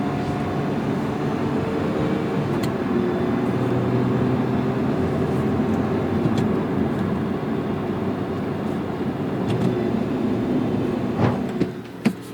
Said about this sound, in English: I'm gonna downshift rev match into third, and you can see.